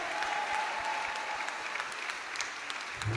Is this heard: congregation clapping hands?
yes